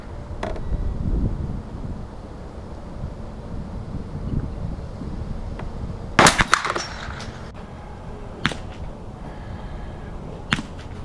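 Outdoor rifle shots from a scoped Winchester M190 at a target range, a loud sharp crack followed by two fainter single reports, with wind buffeting the microphone throughout.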